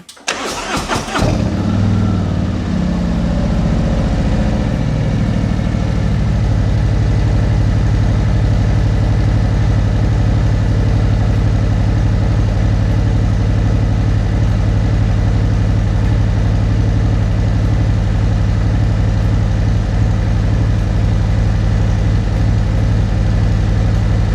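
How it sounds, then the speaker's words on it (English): A Harley motorcycle engine started with the button: a brief starter crank, then the engine catches and settles into a loud, steady low idle that continues evenly for over twenty seconds. "when you hit the start button and it turns over"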